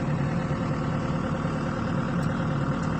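Diesel engine idling steadily at close range with a constant low rumble and no audible speech; no distinct start-up crank is evident, just a continuous running drone throughout.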